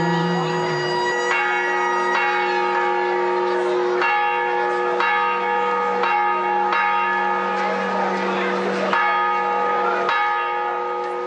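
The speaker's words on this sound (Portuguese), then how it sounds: "Ué, por que que o sino está tocando assim?" Church bell of the São Francisco church rung as an alarm, loud repeated strikes about once a second with long ringing overtones that overlap and sustain throughout.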